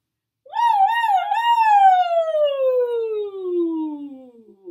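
Voices imitate a siren during a singing warm-up: one sustained, smooth tone that wavers near the top, then slides steadily downward for about four seconds, clear and close.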